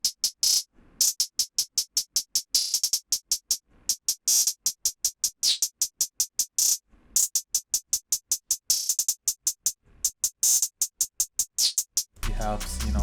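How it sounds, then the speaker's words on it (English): Pitched hi-hats in a rage-type trap beat tick in a fast, steady stream of short crisp bursts that climb from low to high pitch, loud and up front, before heavy deep bass drops in at the very end. "I did like a small bridge part where I pitched the hi-hats."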